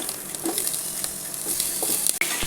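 Onion fries in oil in a pan on a gas stove, a close, continuous sizzle broken by the scrape and clatter of stirring.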